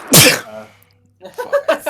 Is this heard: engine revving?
no